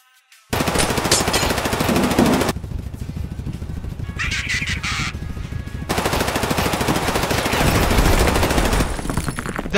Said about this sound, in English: That's a warning shot.